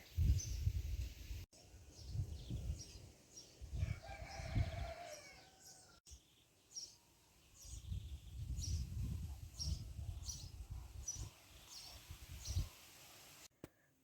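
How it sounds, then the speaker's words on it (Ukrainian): Village birds outdoors, including a rooster crowing and chickens clucking. The calls repeat at moderate distance over a soft, steady background, and no one speaks. "Пташечки тобі співають."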